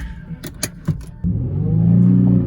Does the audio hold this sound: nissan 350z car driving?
yes